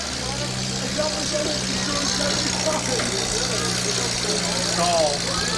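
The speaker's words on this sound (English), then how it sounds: "Listen to the power in that Chevette." A Chevette's engine rumbles and idles loudly at a demolition derby, a steady close drone with faint revving swells, while announcers talk over it.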